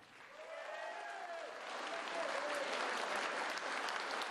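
Enthusiastic applause from the audience at a volunteer awards ceremony honoring reconstruction work in liberated territories, building from moderate to fuller clapping, with faint whistles or tonal sounds in the first half.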